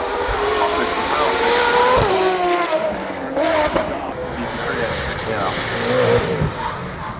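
A race car at the Goodwood Festival of Speed, a Ford-based special edition, passes with a loud, continuous engine roar and brief tire noise, heard under close commentary voices.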